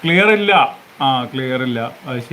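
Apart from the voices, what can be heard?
None of the usual background noises is heard.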